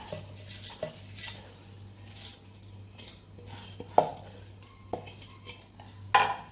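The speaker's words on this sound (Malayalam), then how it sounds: "ഒരു മിക്സിയുടെ ജാറെടുത്തിട്ട് നമുക്ക് ഈ അരിയെല്ലാം ഇതിലേക്ക് ഇട്ട് കൊടുക്കാം" Rice grains rattle and hiss into a mixer grinder jar in a few short pours, with clinks of kitchenware and a low steady hum underneath.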